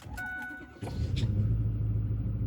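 A diesel truck engine cranks briefly and catches, then settles into a steady low rumbling idle close by.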